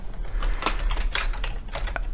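Rapid clicking of computer keyboard keys, a steady run of light taps with a few sharper strokes, close and fairly clear with no voice over it.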